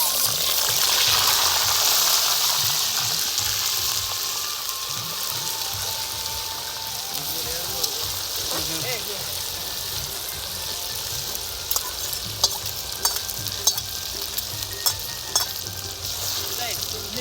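Ginger paste hits hot oil with whole spices in a Gujarati village kitchen, a loud crackling sizzle that eases into a steady frying hiss with occasional pops and stirring, while a voice speaks briefly.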